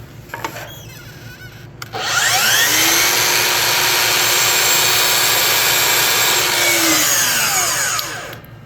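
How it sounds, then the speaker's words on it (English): A miter saw spins up and bites through interior wood trim, a loud steady whine and rasp sustained for several seconds before winding down, with a faint quieter motor hum before the cut. "So I'm going to use the miter saw to do this"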